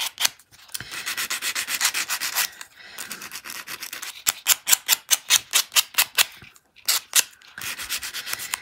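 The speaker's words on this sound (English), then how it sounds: "So you need to spend a little bit of time kind of filing this down." A hand file rasps back and forth along the sharp edge of a metal charm, close and loud, in steady rhythmic strokes broken by a few short pauses.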